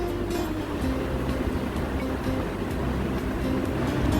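A mixer jar grinds roasted sesame seeds with salt, giving a steady, loud motor whir with a humming drone and gritty rattling that runs unbroken for the whole stretch, with no talking.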